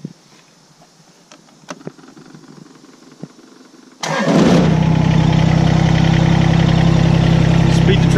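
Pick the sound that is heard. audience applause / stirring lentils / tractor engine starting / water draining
tractor engine starting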